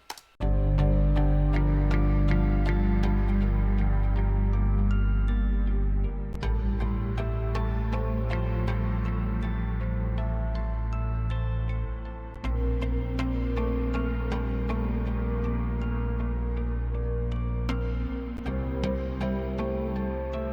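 Layered synth melody over a deep sustained bass line in a slowly evolving breathwork music piece, playing continuously and loud with soft shifts in texture every few seconds.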